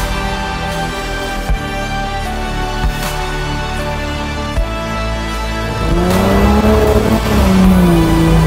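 Light car with a ski on the back, no bar work or rooftop tent, driving down a beach; steady engine drone throughout, growing louder and revving higher in the last few seconds as it accelerates.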